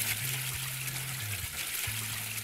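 Water pours in the video game Figment, a continuous hissing trickle over low, steady game music tones.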